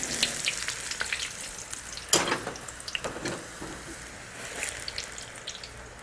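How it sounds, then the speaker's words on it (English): Eggplant pieces crackle and sizzle deep frying in hot ghee, a steady frying hiss broken by sharper pops and a few louder bursts. "So let's gently place the eggplant pieces in the ghee."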